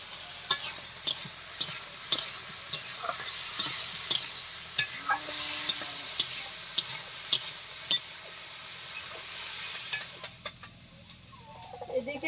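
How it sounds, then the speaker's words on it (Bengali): Bitter gourd and potato frying on a wood-fired stove, heard as a steady soft sizzle broken by regular sharp scrapes and clacks of stirring, with a low hum underneath and faint background sounds near the end. "এদিকে কিন্তু উচ্ছে আলু ভাজাটা চলছে"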